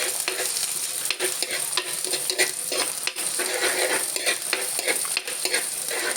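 Small shallots sizzle and fry in hot oil in a pan for a red chilli fish curry, a steady close crackle broken by occasional stirring scrapes, with no talking.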